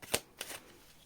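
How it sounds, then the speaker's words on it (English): Tarot cards being shuffled by hand, a sharp riffle burst near the start followed by a second softer shuffle, close and alone with no talking. "Last shuffle."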